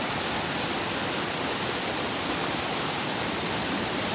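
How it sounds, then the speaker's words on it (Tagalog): Waterfall on Biliran island roaring steadily and close, a dense unbroken wash of falling water with no pauses and no voices. "Dito tayo maliligo sa pangalawang falls"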